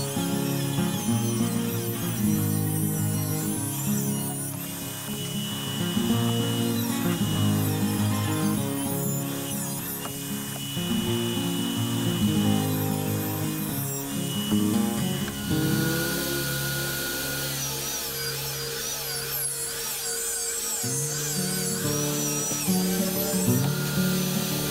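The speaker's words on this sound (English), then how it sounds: "Table saw, we're going to rip a miter into each one of these shelves" A table saw rips miters into wooden shelf boards for floating bookshelves, its loud whining cut shifting pitch as the blade bites through the wood, continuous and close with no voices over it.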